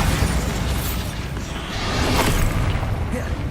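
Bombarda blasting spell going off in Hogwarts Legacy, a loud, dense explosive roar with rumbling low end, sustained through the moment amid busy spell-combat noise.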